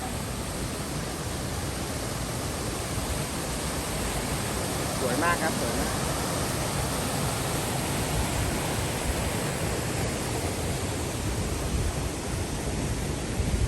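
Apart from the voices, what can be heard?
waterfall rushing water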